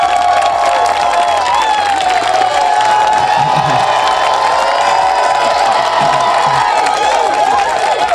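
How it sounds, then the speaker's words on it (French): A large crowd cheers, whoops and applauds for a Gendarmerie team at a sport and civics event, loud and sustained throughout with children's shouts mixed in. "on va applaudir très fort pour dire merci à l'équipe dynamique de la gendarmerie"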